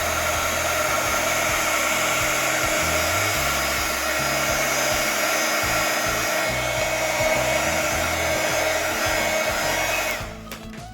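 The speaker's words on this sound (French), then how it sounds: "Je vais remettre un petit coup de gun pour sécher." A handheld hair dryer blows steadily at close range for about ten seconds, a loud continuous whoosh with no voices, cutting off abruptly near the end.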